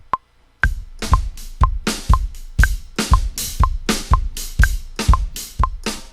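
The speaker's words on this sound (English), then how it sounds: "if you were playing the drums with that, it will sound something like this" A count-in click leads into a steady drum beat at 120 bpm, kick and snare alternating with crisp cymbal hits, at a moderate, even pace.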